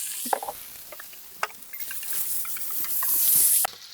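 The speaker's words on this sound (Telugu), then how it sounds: "కన్నాలు పెట్టుకున్న దుంపల్ని ఇలా ఆయిల్లో వేసి కొద్దిగా ఫ్రై చేద్దాం" Pieces of baby taro frying in oil for an Andhra style curry, a close hiss and crackle with scattered pops and stirring taps, swelling into a louder sizzle before cutting off.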